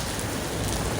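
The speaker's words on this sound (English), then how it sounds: "If you can hear, it's raining" Steady rain hisses down in a dense, even wash of drops, moderately loud with no voices.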